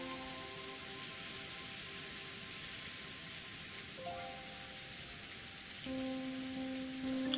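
Steady rain falling in the visual novel game Umineko When They Cry, a continuous soft hiss held at an even level throughout, with sustained music tones running underneath and no voices.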